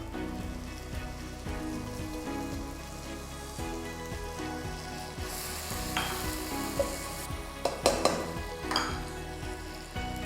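Tomatoes hit a hot pan of ginger garlic paste while making pav bhaji and sizzle steadily and close. Stirring clatters and scrapes grow louder toward the end, and no one speaks.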